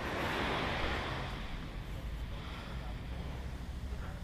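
Surf at Pantai Prigi, a brown-sand beach in Trenggalek, makes a continuous broad roar of breaking waves mixed with wind buffeting the microphone, loud and steady without a voice.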